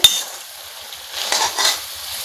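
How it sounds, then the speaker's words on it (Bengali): Taro stolon and dried fish curry stirred in a pan: a sharp utensil clink at the start, then a soft steady sizzle with brief swells of scraping as the mixture is turned, close and alone. "এখন আমি একটু আলতো হাতে উল্টো পাল্টা করে নাড়াচাড়া করে নেব"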